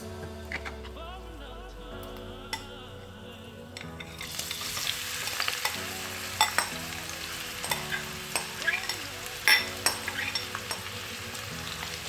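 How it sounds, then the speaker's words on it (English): Onions dropped into heated oil in a pan set off a loud, steady sizzle after a quieter start, with scraping stirs and clicks breaking through the frying hiss. "Now I'll put in my onions."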